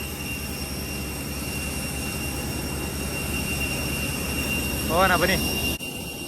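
A Rolls-Royce jet engine on a SriLankan Airlines plane gives a steady, loud roar with a high whine running over it, and someone speaks briefly near the end.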